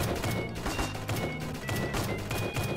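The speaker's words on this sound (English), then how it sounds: "I need more of these machine gunners." Roblox Toy SoldierZ machine gunner toy soldiers firing, a rapid, crackling stream of overlapping gunshots with sharp bursts and steady background battle noise.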